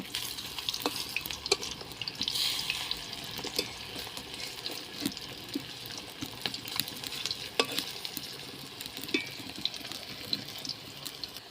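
Prawn pakoras fry in oil at a soft, even sizzle while a utensil turns them over, adding scattered light clicks and scrapes at a fairly low level.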